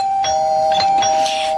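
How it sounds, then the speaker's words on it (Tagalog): A house doorbell at a front gate chimes with a sustained electronic tone that rings steadily through the short moment, fairly loud and close, with no talking over it. "Ito, meron doorbell."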